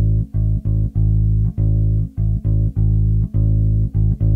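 Bass guitar plays a syncopated sixteenth-and-eighth-note rhythm, clean and close, in short repeated plucked notes with brief gaps and no talking.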